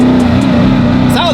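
Koenigsegg Agera RS hypercar engine, a loud, close, steady droning note with a brief rising rev near the end, with voices talking over it.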